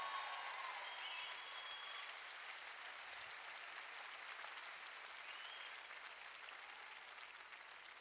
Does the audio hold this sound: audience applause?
yes